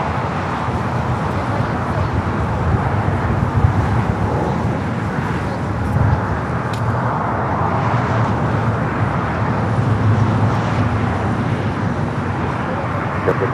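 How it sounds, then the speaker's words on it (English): A United Boeing 787 Dreamliner arrives at LAX, a broad, steady jet roar that stays loud and continuous throughout, with distant traffic noise mixed in. "Now we got the United Dreamliner coming in from Newark"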